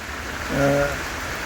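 Heavy rain keeps up a constant broadband roar, briefly joined midway by a short voiced tone over the downpour.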